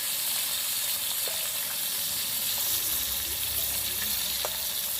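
A fish frying to a reddish brown in a pan gives a steady close sizzle with occasional sharp spits and pops, heard alone with no voices.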